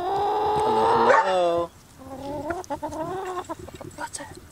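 Backyard laying hens cluck and squawk close by, a loud drawn-out crowing call followed by a run of shorter rhythmic clucks, with a dog barking in the mix.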